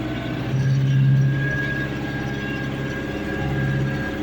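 A John Deere 2140 tractor runs while ploughing a field with a Unia plough, its engine a steady, low droning rumble that holds constant with slight swells.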